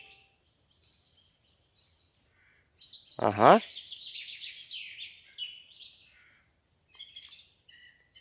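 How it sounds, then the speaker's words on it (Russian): Songbirds chirp and trill in a spring forest, a series of short, bright phrases near and far, with one loud call in the middle and a brief spoken word. "Прислушайтесь, как красиво поют птицы сейчас."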